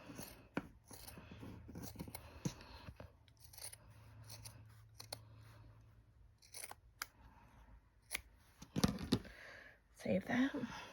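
Scissors cut straight down through pinned quilt fabric, making close, rasping snips in irregular bursts that grow louder near the end.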